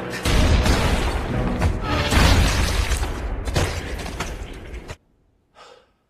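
Gunfire from the Japanese zombie film I Am a Hero, as shots are fired at a zombie: loud, booming bursts with dramatic effects over about five seconds, then an abrupt cut to near silence.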